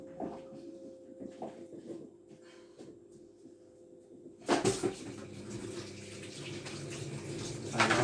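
Tap water starts running loudly in a kitchen sink during cooking, preceded by quiet kitchen handling and small clicks, then a steady close rush of water.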